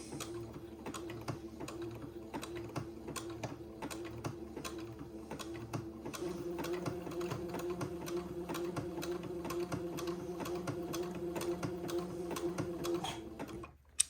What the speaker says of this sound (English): I'm going to very slowly zigzag this Malines lace to the entredeaux of the Swiss insertion.